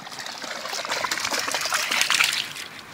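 A Boston Terrier swimming for the first time sets off continuous close splashing and trickling water, bright and busy, with no voices over it.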